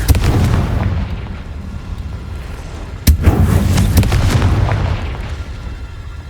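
Confringo fire spell blasts in the Hogwarts Legacy video game: a loud, dense rumbling barrage of explosive booms, with a sharp bang near the middle, continuing without speech.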